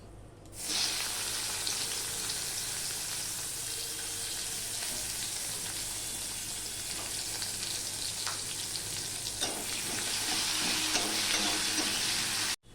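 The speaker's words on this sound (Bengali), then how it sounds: "গোটা গরম মশলাটা ফোড়ন হয়ে গেছে আমি এই অল্প একটু পেঁয়াজ দিয়ে দিচ্ছি" A little onion goes into oil tempered with whole garam masala and cinnamon for a masala fish curry, setting off a steady, fairly loud hissing sizzle that swells slightly toward the end, with faint stirring.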